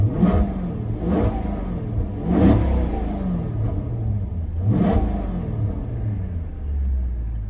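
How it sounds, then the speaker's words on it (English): Maserati GranTurismo S V8 engine with exhaust valves closed, idling with a low steady rumble and four sharp throttle blips, close and loud. "going to give you a couple revs with the valves open and the valves closed"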